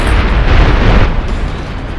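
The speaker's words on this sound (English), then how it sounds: "airstrike on the way" A heavy airstrike blast in the video game Ghost Recon Advanced Warfighter 2, a loud deep rumbling boom that swells and rolls on for about two seconds with no talk over it.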